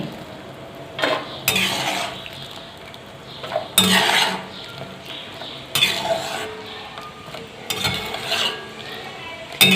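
Boiled dingri being lifted out of hot water and set onto a plate in a home kitchen, with several bursts of clinking utensils and scraping against the dish amid steady background noise.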